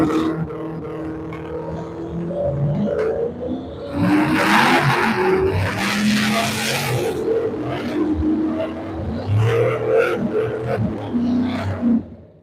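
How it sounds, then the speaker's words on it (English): Two LS-powered drag cars, a Trans Am and a Camaro, roar down the strip at a drag racing event, loud engine noise rising and surging for several seconds before cutting off. "Trans Am versus Camaro, both LS powered."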